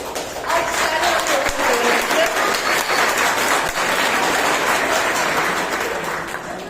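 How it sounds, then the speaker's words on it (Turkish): An audience at a science, engineering and technology summer camp certificate ceremony gives steady, dense applause that fills the room for several seconds and then begins to fade. "Tekrar büyük bir alkış istiyorum hocalarımız"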